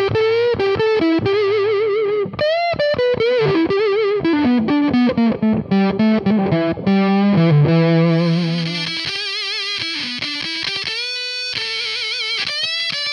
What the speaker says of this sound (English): So the Electro-Harmonix Big Muff Pi, a really cool fuzz pedal